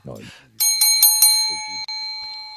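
A small hand bell rings with several quick bright strikes that leave a sustained metallic ring fading out, preceded by a brief Spanish-speaking voice.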